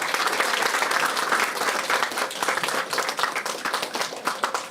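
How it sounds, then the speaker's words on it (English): Crowd applause for a young performer at a Tamil Heritage Month cultural event in Ottawa, loud close clapping from many hands sustained for several seconds with a few scattered cheers mixed in. "let's give it one more round of applause for Ashwini"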